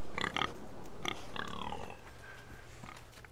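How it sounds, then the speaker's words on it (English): A pig in the Game of Thrones video game gives a few short grunts and a squeal that trails off, fairly faint and heard on its own. "and there's a pig."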